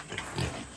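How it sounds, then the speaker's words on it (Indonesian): An albino pig gives a brief grunt close by, a short low oink that rises slightly and fades within a second. "Babi albino."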